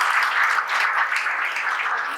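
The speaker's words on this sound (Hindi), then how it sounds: "तो ताली बजाओ शालिनी के लिए" An audience claps for Shalini at a toppers' talk for civil engineering students, a short burst of steady, moderately loud clapping with no voices over it.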